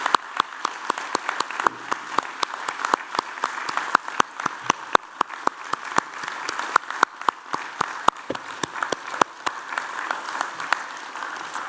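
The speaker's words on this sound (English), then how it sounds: "I wonder if everybody would now please join me in applauding the wonderful achievement of our graduates" Audience at a University of Newcastle (Australia) graduation ceremony applauds the graduates, a sustained steady clapping from a large crowd with sharp individual claps standing out throughout.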